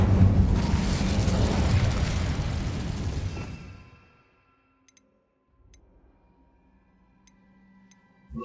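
A fire spell erupts in a spell-casting game, a loud roaring whoosh of flame that sustains for several seconds, then cuts off into near silence broken by faint ticks and a low rumble.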